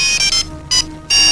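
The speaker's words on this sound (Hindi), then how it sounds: "ये तो बॉबी का फोन है।" A mobile phone ringtone sounds indoors, loud tonal bursts in a short repeating pattern with brief gaps, heard alone without speech.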